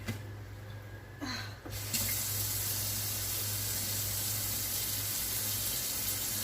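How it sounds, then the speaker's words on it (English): A kitchen sink runs with a loud continuous rush and hiss of liquid as hot grease is poured in. A quieter start gives way to a steady full stream. "I've got to pour hot grease in there."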